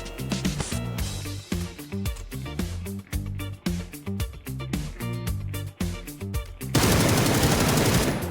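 Rapid automatic gunfire from a weapon in the video game PUBG Battlegrounds, loud and close, firing in dense repeated bursts with short gaps, then ending in a sustained wash of noise.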